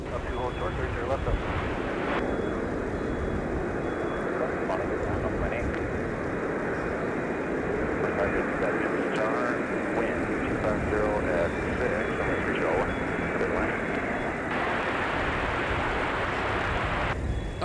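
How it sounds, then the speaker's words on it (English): An airliner touching down on runway 30 left at Minneapolis–Saint Paul airport in winter, a steady distant broadband jet roar with engine whine, under near-continuous talk throughout. "our arrival has just touched down on 30 left"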